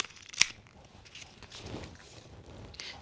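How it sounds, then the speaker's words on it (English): Scissors make a single sharp snip through kinesiology tape, followed by quiet handling and rustling of the tape. "And we're going to make a little bit of a snip."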